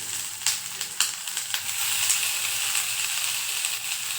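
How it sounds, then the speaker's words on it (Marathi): Onion sautés in hot oil in a pan for a homestyle paneer curry, giving a steady close hiss and sizzle broken by a few clinks and scrapes of stirring, with no talk. "आता कांदा सुद्धा आपल्याला परतून घ्यायचा आहे खूप जास्त डार्क करायचा नाही आहे फक्त हलकासा परतून घ्यायचा"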